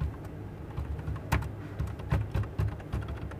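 Fingers type on a computer keyboard in irregular bursts of close, crisp key clicks with a few louder taps, no voices over them.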